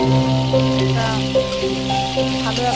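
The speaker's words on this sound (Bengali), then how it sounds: "আমি এভাবে মাছগুলো সম্পূর্ণ ভেজে নেব" Tilapia fish sizzles and crackles steadily in hot oil, a soft continuous frying hiss with a faint low hum underneath.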